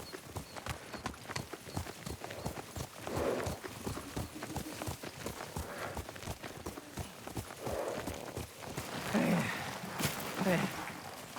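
Horse hooves clip-clop at a steady walking rhythm while riding in the samurai game Ghost of Tsushima. The hoofbeats are moderately close and continuous, and a voice speaks over them now and then.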